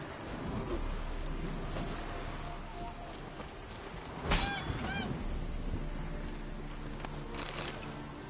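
Goose in Witcher 3 gives a few quiet nasal honks, one sharper call standing out midway over a low, busy ambient game background.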